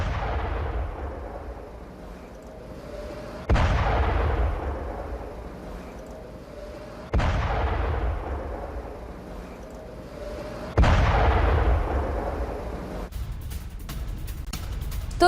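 Missile strikes hit the Al Jubail industrial area, sending three heavy, booming blasts at steady intervals, each decaying into a long rumble, with crackling bursts near the end.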